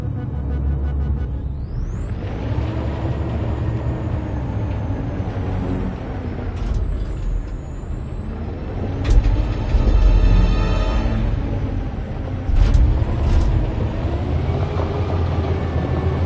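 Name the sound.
truck driving in the video game Detroit Become Human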